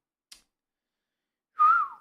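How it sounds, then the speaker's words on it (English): A person whistles loudly, one strong sustained note that glides downward and trails off, preceded by a faint brief click in an otherwise quiet room. "Did not mean to whistle like that loud."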